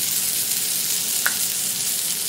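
Chopped ham frying with bacon in a pan for scrambled eggs, giving a steady, even sizzle throughout with one brief sharper crackle partway through and no talking.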